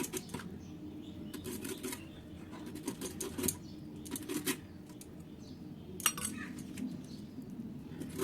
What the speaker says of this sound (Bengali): তো এঁচড়টা আমি কেটে নিচ্ছি।